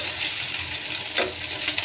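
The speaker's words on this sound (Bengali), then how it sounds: "আমরা পেঁয়াজটাকে ডিমটাকে একসাথে একটু ভেজে নিব যাতে একটু টেস্ট লাগে" Onion and egg frying together in a pan for chowmein, a close, continuous sizzle with occasional stirring scrapes and no talk.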